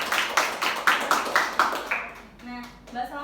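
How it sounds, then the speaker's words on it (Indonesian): Applause in a classroom comes as a short run of even, rhythmic claps, about six in a row, then fades as a voice begins speaking. "Boleh tepuk tangan."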